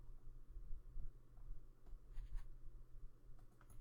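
Pen scratching and sliding across a chart in a trading coaching session, faint short strokes near the mic over a low room hum.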